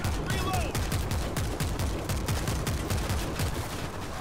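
Rapid gunfire from the zombie shooter game World War Z, a dense, continuous stream of sharp shots fired in quick succession, loud and close for the whole stretch.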